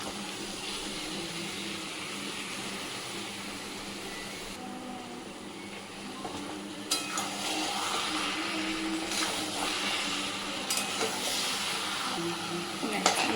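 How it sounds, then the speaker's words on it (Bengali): Country chicken being fried down with small additions of hot water sizzles quietly in a pan, the hiss growing louder partway through with clinks and scrapes of stirring, fairly close. "অল্প অল্প গরম জল দিয়ে দিয়ে কষাতে থাকবো।"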